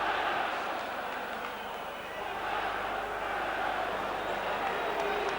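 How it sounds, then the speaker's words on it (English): Football crowd at Elland Road, Leeds, during a UEFA Champions League match between Leeds United and Stuttgart, a steady roaring wash of thousands of voices in the stands, with a commentator talking over it. "the crowd have played their part in whipping up a tremendous atmosphere"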